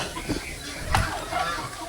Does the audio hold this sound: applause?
no